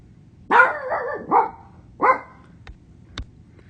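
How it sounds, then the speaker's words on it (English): A dog barks nearby in a quick run of four sharp barks, then gives a couple of faint, brief sounds in an otherwise quiet room. "My dog made a little guest appearance there."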